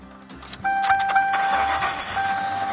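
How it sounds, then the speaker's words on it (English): A propane autogas car's engine cranks and starts after a few clicks, then settles into a steady idle with a faint electronic chime tone, recorded close by inside the vehicle. "So, let's start the car up."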